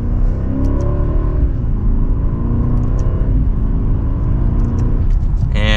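A 2024 BMW 760i pulls hard in second gear with sport mode engaged, its engine note rising in a steady, smooth rumble that swells and holds loud and close from start to finish, with no one talking.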